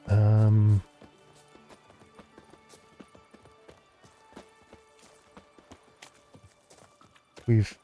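Horse hooves clip-clop in The Witcher 3, a steady run of light, evenly spaced footfalls in the middle, framed by loud bursts of other game sound at the start and end.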